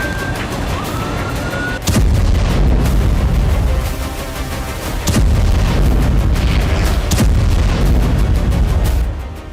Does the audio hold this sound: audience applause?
no